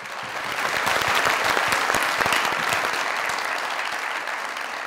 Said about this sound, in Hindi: तालियां भाई।